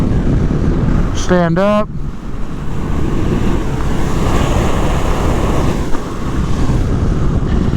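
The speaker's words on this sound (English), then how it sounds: "I think the wind's going right over me." Steady, loud wind roar buffets the rider of a 2022 Kawasaki KLR 650 motorcycle throughout, a constant broadband rush with a brief spoken phrase near the start.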